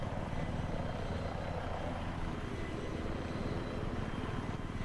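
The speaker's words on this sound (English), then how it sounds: "this was your tutorial on how to fly the helicopter" A helicopter in the video game Battlefield 3 flies with a steady, droning engine roar and rapid rotor chop, continuous and fairly faint, with no talking.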